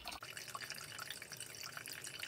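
Water pours steadily into the water tank of a coffee maker, a continuous close splashing and trickling stream, moderately loud and alone with no voices.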